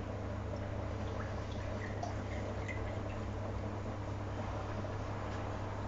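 Water trickling and dripping steadily onto soil at close range over a low, constant hum, with no voices.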